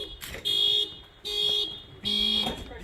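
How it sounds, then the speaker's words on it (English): Car panic alarm blaring in three loud electronic bursts, each a high steady tone with a lower hum underneath, separated by short gaps. "Setting off his panic alarm"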